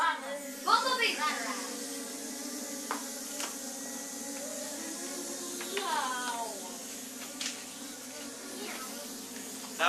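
Children's voices imitating buzzing bumblebees, a group producing wavering, droning hums that rise and fall in overlapping bursts, close by and fairly loud.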